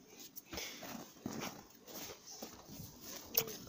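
Rexi, a dog out walking in the snow, whimpers and whines in short, uneven bursts, fairly close, with soft rustling and footfalls between the cries.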